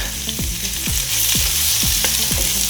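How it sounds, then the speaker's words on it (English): Vegetables sauté and sizzle in a pan over lowered heat, giving a loud, steady frying hiss with rhythmic scraping strokes of stirring. "we are gonna just stir fry a little bit, saute our veggies here"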